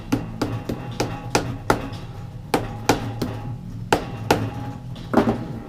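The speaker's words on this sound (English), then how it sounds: "Hammer here." A hammer striking a part of a Yamaha XJ600 Seca II motorcycle engine during a teardown, a dozen or so sharp metallic knocks at uneven intervals, close and loud.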